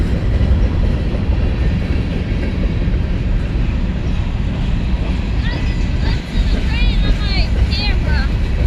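Kansas City Southern freight train led by locomotives 1776 and 4905 rolling past near the Black River Bridge, a loud steady rumble of rail cars with squealing wheels toward the end and people talking nearby.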